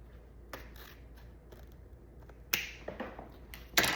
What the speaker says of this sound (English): because this is such a hefty and very weighted ribbon, I am going to cut this here